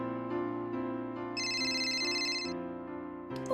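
An incoming phone call in a murder mystery game rings out as a bright electronic ringtone, with repeated melodic chimes over a steady tonal background, clear and close with no talking.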